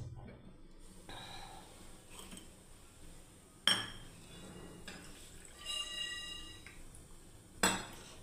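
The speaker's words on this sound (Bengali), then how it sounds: "এবার আমি কড়াই চাপিয়ে দিলাম আবার।" A metal kadai is set back onto the stove in a home kitchen, giving two sharp clanks several seconds apart over quiet room noise.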